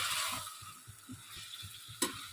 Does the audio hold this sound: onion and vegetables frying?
yes